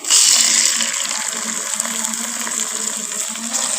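Tomatoes tipped into a pan of frying onions for an aloo matar sabzi set off a loud, steady sizzling hiss that stays even throughout, with no talking.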